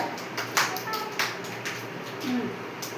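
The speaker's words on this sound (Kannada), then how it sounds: "ಚಪ್ಪಾಳೆ ಹಾಕ್ರಿ" A group of children clap their hands in a classroom song activity, a few scattered, uneven claps and taps with voices talking softly around them.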